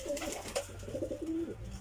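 A pigeon kept in a home loft coos in low, repeated rolling phrases, steady and fairly close, over a faint background hum with no talking.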